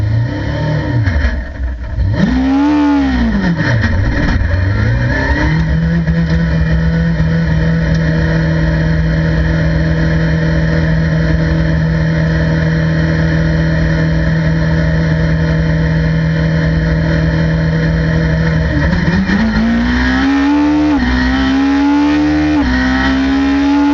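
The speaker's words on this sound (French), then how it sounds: "Et c'est la numéro 16, la Ferrari de Eric Debar" GT race cars, including a Ferrari, lapping at Le Mans, heard from onboard as the engine revs high, drops for shifts and braking, then holds a long steady drone before climbing again, loud and continuous with no talk.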